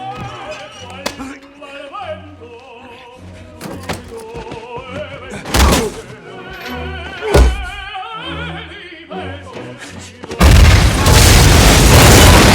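Grenade explosion in a film fight scene: heavy booming thumps and a final loud blast over a dramatic musical score.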